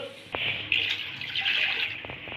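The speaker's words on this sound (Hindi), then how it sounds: "तकरीबन आपने इसमें 5 गिलास पानी डालना है" Water, roughly five glasses, is poured over raw chicken in a pot to make yakhni stock for chicken pulao. A close, steady splashing gush starts abruptly and runs on for about two seconds, with no talking.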